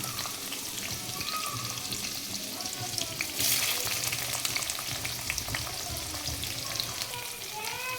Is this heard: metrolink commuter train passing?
no